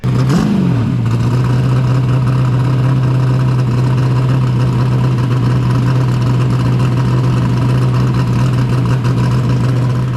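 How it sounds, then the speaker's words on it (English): A race car engine idles high at around 1600 RPM, a loud, steady drone that blips briefly at the start and then holds a constant close rumble with no talk. "when I'm pulling up the stage, it's idling really high. It's like probably 1600 RPM."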